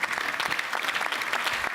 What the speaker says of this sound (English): I want to give him a big round of applause for being so proactive for us